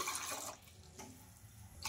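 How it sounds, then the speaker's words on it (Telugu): Water poured into a cooking pot on the stove, a faint, soft splashing pour that briefly fades and then returns. "ఒక పాత్ర పెట్టేసుకొని అందులోకి వాటర్ అయితే వేసుకోవాలి"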